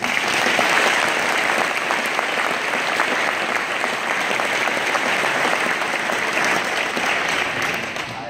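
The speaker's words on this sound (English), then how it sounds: "give them another round of applause" Sustained applause from a crowd honoring the SJO IHSA Class 2A state basketball champions, steady dense clapping throughout that tapers slightly at the end.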